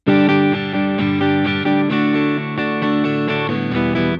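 Distorted electric guitar strums every sixteenth note in a constant, unbroken chug of fast even strokes, loud and dense throughout.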